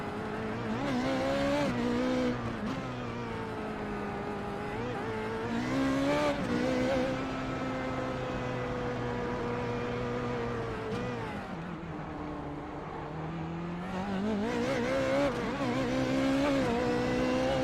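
A Formula Renault 3.5 race car engine screams from onboard at the Detroit Belle Isle street circuit, holding high revs with sharp drops and climbs through gear changes, loud and continuous.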